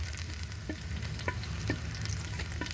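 Garlic and onion sautéing in a pan for a tomato egg dish, a continuous close sizzle with intermittent light stirring taps, no voices.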